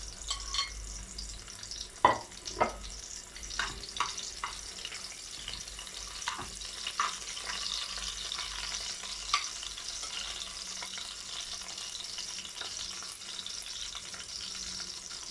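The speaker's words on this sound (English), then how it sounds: "To this, I'm going to add the curry leaf as the onion has browned a bit." Curry leaves added to browned onion frying in a pan for a sausage and potato curry, giving a soft steady sizzle with scattered spatula scrapes and taps, fairly quiet and close, without speech.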